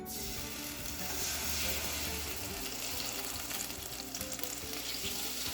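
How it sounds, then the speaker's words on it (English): Liquid pours into a sizzling pan of hot bacon grease while a whisk stirs, making gravy, producing steady frying hiss with soft rhythmic scraping, no voices. "just make sure that you're stirring with the whisk as you pour it in"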